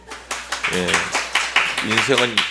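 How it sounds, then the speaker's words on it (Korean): A church congregation at a Sunday service gives a few scattered, rhythmic hand claps, fairly close and moderate in level, with voices speaking and calling out over them throughout. "박수 한번 하세요"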